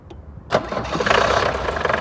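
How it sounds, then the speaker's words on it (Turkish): A 1976 Mercedes 240D diesel engine cranks briefly, then catches on a single start and settles into a loud, steady clattering idle close by. "Arkadaşlar gördüğünüz 240 dizel aracımızın marş sesini dinleyeceğiz."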